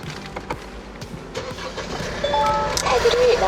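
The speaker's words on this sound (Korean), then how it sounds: "자 제가 이렇게 엔진 시동으로 한번 걸어봤는데요 디젤 차량임에도 불구하고 실내 차량 정말 종숙하고 조용한 차량입니다" A diesel Kia All New Carnival 9-seat Hi-Limousine starts from inside the cabin: a muffled crank rises into a low, quiet idle that grows slightly louder toward the end.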